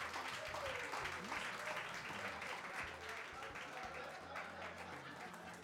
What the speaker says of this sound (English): Please give her a humongous round of applause.